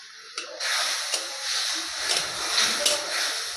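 Sliced potatoes with cumin, ginger and chili fry in a pan over high flame, giving a close, steady sizzling hiss that swells slightly after a soft start, with a few faint clicks.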